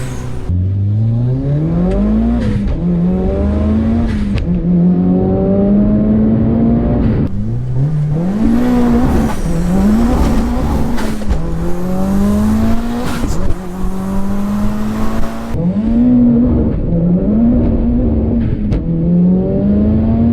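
A 500 bhp Mitsubishi Evo 9 street car driving hard, its engine repeatedly revving up through the gears with rising whines and brief drops between shifts, loud and steady from inside the cabin, with no talking.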